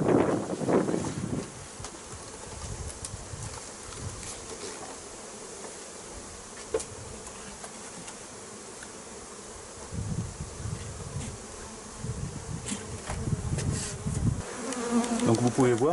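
Honeybees buzz steadily around a newly split beehive, a dense insect drone from many bees that swells and fades as they fly close, with no talking.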